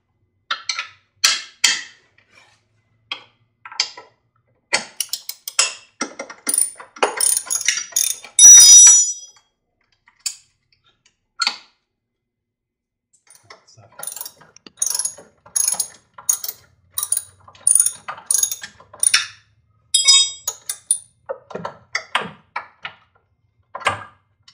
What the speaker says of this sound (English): to remove the bolts, you'll need a 13mm socket wrench with extension